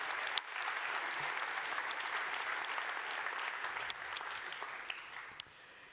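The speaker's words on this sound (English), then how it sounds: "So if we can give a quick round of applause to CloudBees." A conference crowd at DevOps World | Jenkins World 2018 claps for a sponsor, a quick, even burst of applause from a large room that holds steady before thinning out near the end.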